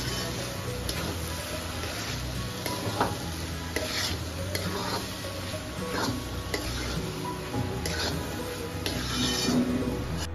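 Ground dry coconut masala paste stirred into a Konkan-style cashew curry in a pan, a close and continuous low sizzle with frequent scraping strokes of a spoon against the metal, no voices.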